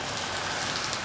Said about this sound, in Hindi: अभी तो लाइट गई है और बाहर हो रही है तेज़ बारिश।